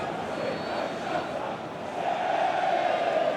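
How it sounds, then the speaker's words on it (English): Football crowd at a Premier League match between Bournemouth and Brighton, cheering an offside decision: a dense, sustained roar that swells louder toward the end, with a commentator talking over it. "And there's the cheer that tells you it is offside"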